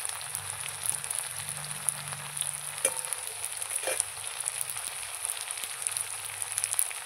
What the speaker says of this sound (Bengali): এবার আলুর সঙ্গে মশলা ভালো করে কষিয়ে নেব।